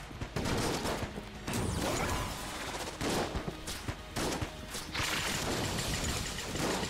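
Dense, relentless gunfire from the bullet-hell game Enter the Gungeon, with overlapping shots and impacts forming a loud, continuous barrage that barely lets up for the whole stretch.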